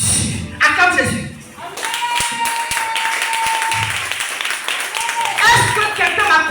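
A church congregation at a Sunday deliverance service claps in acclaim of Jesus, steady applause filling the room under a preacher's voice and other voices.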